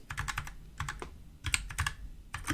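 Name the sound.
typing on a computer keyboard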